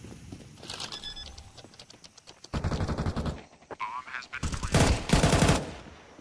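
Rainbow Six Siege gunfire from a European Pro League esports match: rapid automatic bursts, several loud clattering strings of rounds with gaps between them, mixed with in-game clicks and impacts under a commentator's voice.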